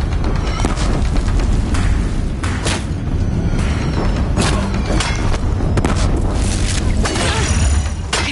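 A bridge blows apart in Horizon Zero Dawn, loud booming blasts and heavy rumbling thuds repeating through a dense, chaotic battle din with no talk.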